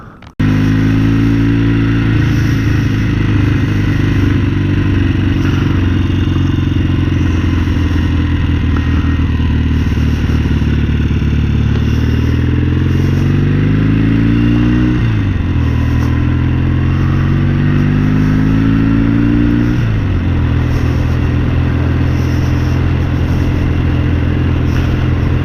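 A 1969 Norton Commando Mk1 motorcycle ridden along a link road, its engine droning loudly and steadily throughout, climbing in pitch through revs with clear gear changes partway through and near the end.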